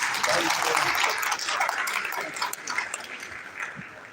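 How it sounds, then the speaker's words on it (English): Crowd at a refugee day gathering applauds a speaker with a broad wash of clapping that gradually thins out, while voices and cheers carry underneath. "A round of applause for her, please."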